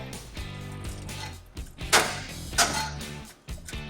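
Metal pry bar breaking a weld nut loose on a 2003 Acura MDX during trailer hitch installation, with scraping, creaking metal work and two sharp cracking impacts midway, close and fairly quiet.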